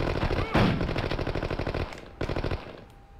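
Rapid automatic gunfire from the video game Chicago Enforcer, loud close bursts of evenly spaced shots that pause briefly around the two-second mark, then resume.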